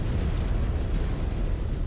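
A mech explodes on destruction in the MechWarrior 5: Clans video game, a loud, rumbling, heavy blast that sustains as a dense low roar throughout.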